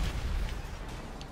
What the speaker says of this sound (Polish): nie ma to jak fajerwerki na dzień dobry